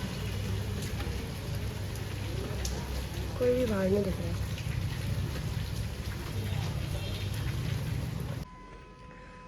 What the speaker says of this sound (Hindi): आज 2 दिन से यहाँ कंटिन्यूस बारिश हो रही है